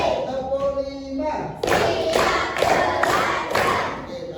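Classroom pupils clap in a counted rhythm during a lesson, with about five sharp broadband bursts spaced roughly half a second apart, following a few seconds of tonal voice or chanting.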